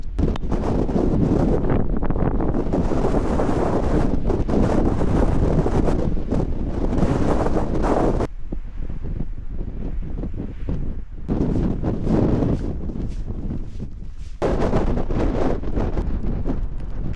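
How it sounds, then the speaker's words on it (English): Strong, cold wind buffets the microphone outdoors during a heavy rainstorm, producing loud, rumbling roars that come in gusts with brief lulls between them. "It is so windy, I can't keep still."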